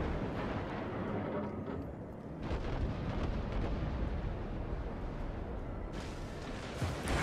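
Naval gunfire and shell explosions in the World of Warships game, heavy rumbling booms and blasts rolling continuously with sharper bursts near the end, loud and dense.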